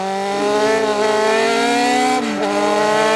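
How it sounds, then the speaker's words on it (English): A Brabham race car with a 3-litre Ford DFV engine runs on a track, its loud, steady high-pitched engine note holding near and constant, with a brief dip and shift in pitch late on as it changes gear. "behind me the 3-litre Ford DFV, an icon in its own right, and a big step in performance"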